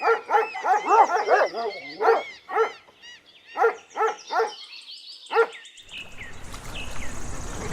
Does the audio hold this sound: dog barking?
yes